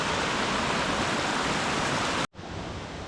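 River water rushing steadily beside a quiet riverside walkway, a dense broadband wash heard close, cut by a brief dropout before resuming.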